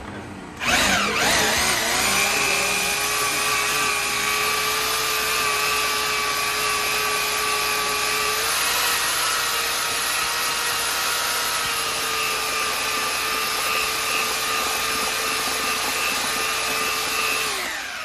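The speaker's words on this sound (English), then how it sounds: "Make sure that you push the mixer into the bottom of the bucket, like all the way to the bottom of the bucket" A drill mixer stirring aircrete mortar foam in a bucket, with a loud, steady motor whine that starts abruptly and holds a strong droning pitch for the whole stretch, dipping slightly about halfway through.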